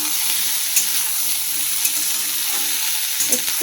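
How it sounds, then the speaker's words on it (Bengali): Large cut cauliflower pieces fry in oil in a home kitchen, a loud continuous sizzle with occasional soft stirring clicks and no talking. "এখানে আমি ফুলকপিগুলোকে একটু বড় বড় কেটে এগুলো ভাজতে বসিয়ে দিয়েছি"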